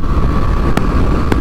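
A TVS Ntorq 125 scooter engine runs at full throttle during a drag race against other scooters, giving a steady loud drone throughout with a few brief sharp bursts near the end.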